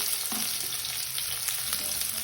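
Ginger, garlic and chilies, added after onions, sizzle steadily in hot oil in a pan, a close, continuous frying crackle with occasional stirring scrapes.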